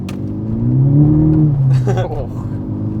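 A Mk6 Golf GTI Edition 35 with an upgraded exhaust accelerates hard with wheel spin, its engine note rising loud and close, with people talking over it.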